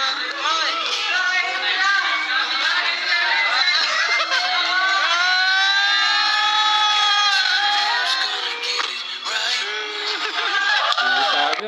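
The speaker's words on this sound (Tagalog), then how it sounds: "Kita nyo, sigawan ng buong ibang K-Boys" A group of K-Boys shouts and cheers together at close range, a dense, continuous wall of excited voices with whoops and high yells rising and falling for several seconds.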